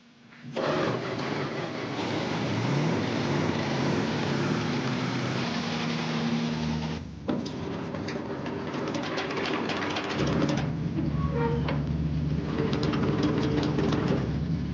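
A 1979 Dodge D300 wrecker engine running at idle, a continuous low rumble with a brief dip midway before settling back into a steady drone, close and alone.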